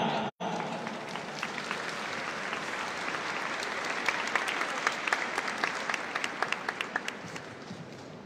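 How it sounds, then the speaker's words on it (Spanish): An audience applauds at a youth economic-support award ceremony in Mexico, loud sustained clapping filling the room for several seconds after a brief pause, with no talking. "Fuerte el aplauso para todos los compañeros"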